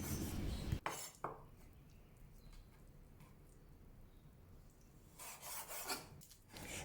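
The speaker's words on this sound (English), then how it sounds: "Then cut the pork belly into small chunks, preferably within half to 1 cm thick, and then cut into thin pieces." A knife slicing pork belly into thin pieces on a board, with a few sharp scraping strokes near the start and more rasping cuts near the end, close and fairly quiet.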